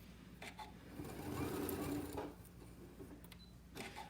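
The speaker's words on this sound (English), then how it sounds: "We're going to back stitch to that pen, straight pin. One more stitch." A sewing machine back stitching a fabric placemat, a brief soft whirring run of stitches that swells and fades, close and quiet, with a few light clicks around it.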